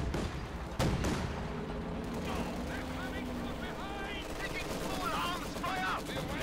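Machine gun fire in a Company of Heroes 2 match, from MG42 and Maxim guns, rattling in steady bursts inside a dense wash of battle noise with explosions, heard alongside continuous commentary.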